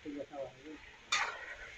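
Chicken feet adobo is stirred in a pan, a brief scraping stir and sizzle following a few soft, faint sounds, close and quiet.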